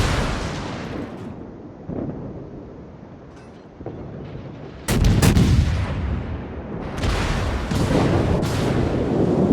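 Naval guns thunder in a warship battle game, heavy booming salvos layered over rumbling engine noise, with a louder burst of broadside fire and torpedo launches taking over midway and continuing in repeated blasts.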